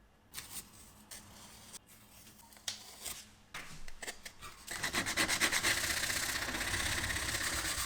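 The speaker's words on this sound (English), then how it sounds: "After letting it cure, I sanded it smooth" Sandpaper rubs across cured epoxy filler mixed with sanding dust on a portable Bluetooth speaker enclosure, starting as sparse scratchy strokes and building into continuous, fast, close rasping.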